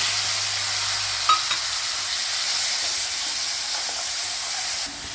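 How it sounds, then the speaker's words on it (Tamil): Ground onion paste frying in a pan with clove, cardamom and cinnamon for aloo dum. A steady, close sizzle hisses throughout, with a brief utensil clink partway through. "இதை நல்லா வறுத்துன்றணும். அரைச்சி வச்ச வெங்காய விழுதை போட்டு"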